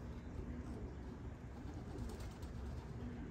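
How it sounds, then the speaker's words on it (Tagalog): Racing pigeons cooing in a loft, soft, low murmuring calls under a constant steady background hiss, faint and fairly distant. "Mga ibong ko."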